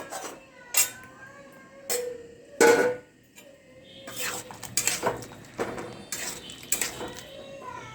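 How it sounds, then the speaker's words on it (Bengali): Chana is stirred in a cooking pot for chicken chana, with a spoon clinking and knocking against the metal in separate close taps that grow into busier scraping and rattling toward the end, with no talk over it. "চানাটা দিয়ে দিলাম, একটু নাড়িয়ে দিচ্ছি"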